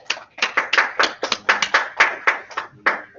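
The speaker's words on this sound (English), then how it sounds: "Could I get a quick round of applause for the presenters," A small audience gives a quick round of applause for student presenters at the close of a class session: about a dozen distinct, uneven hand claps that sound close and fairly loud, with no talking.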